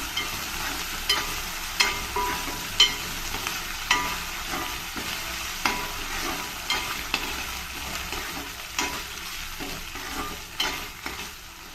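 Ginger-garlic paste and onions frying in a pan for a fenugreek-leaf pulao, a steady hissing sizzle with regular spoon strokes scraping the pan every second or two, close and alone.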